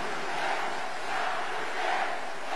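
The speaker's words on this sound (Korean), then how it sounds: "여러분, 박근혜 후보에게도 격려의 박수를 부탁합니다." A crowd at a Grand National Party presidential candidates' joint rally in Daejeon cheers and applauds, a continuous swelling roar of voices and clapping, moderately distant and steady throughout.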